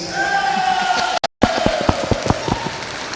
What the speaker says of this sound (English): give another loud round of applause for Bonita and Rahul